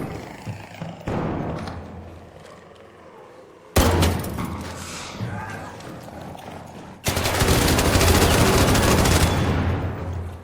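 Gunfire in the game Arc Raiders, rapid bursts of automatic shots that start moderate and jump to loud, dense fusillades midway and near the end, with a voice shouting briefly between volleys.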